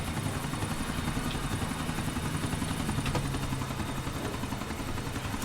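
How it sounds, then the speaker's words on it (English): Helicopter flying in GTA IV, a steady, loud rotor thrum and engine whine that holds throughout with a dense rhythmic beat, no talking over it. "Flying helicopter here"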